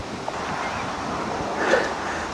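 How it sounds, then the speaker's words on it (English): Blustery, showery wind buffets a garden where raised beds are being built from sleepers, a steady broadband rush with a gust swelling near the end and no talk. "it's blustery and showery and very windy"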